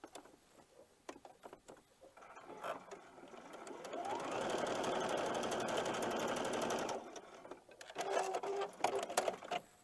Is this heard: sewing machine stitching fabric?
yes